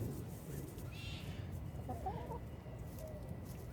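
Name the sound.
chicken clucking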